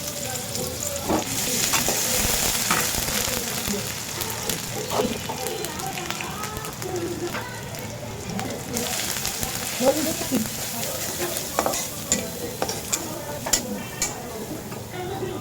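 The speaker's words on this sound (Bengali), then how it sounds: "ইলিশ মাছগুলো উঠাইয়ে এখন পেঁয়াজ মরিচ দিয়ে দিলাম।" Onions and chillies fry in a wok after hilsa fish, giving a loud, steady sizzle and crackle with frequent scraping and clicking as the mix is stirred over about fifteen seconds.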